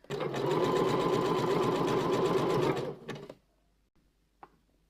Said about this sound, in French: Donc, je fais en sorte de piquer vraiment au bord de l'élastique.